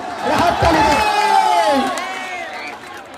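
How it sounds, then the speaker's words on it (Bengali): Spectators at a local gold cup football tournament semifinal raise a loud cheer, a swelling roar of voices that peaks quickly and then fades away over a few seconds. "আর্জেন্টিনার সাপোর্টার একটা হাততালি দেন।"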